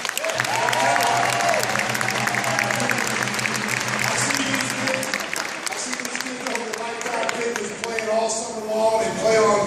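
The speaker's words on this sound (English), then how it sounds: "Give these guys a big round of applause." Crowd applause for a championship-winning high school basketball team at a celebration, dense steady clapping with cheers and voices mixed in throughout.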